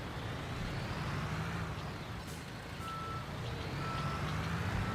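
A truck reversing near an excavator in Construction Simulator, with steady engine rumble under faint, regular reversing beeps and a brief air-brake hiss.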